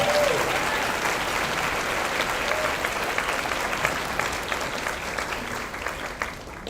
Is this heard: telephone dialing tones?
no